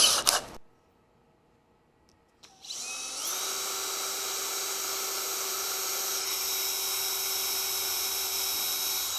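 A brief whir cuts off, then after a pause a high-pitched drill with a small-diameter bit spins up, drilling a pilot hole in acrylic, and holds a steady, loud whine for several seconds.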